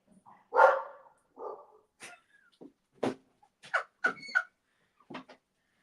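A pet dog barks indoors in a scattered series of short, sharp yaps and whines, some close and loud, others quieter, with gaps of silence between and no talking.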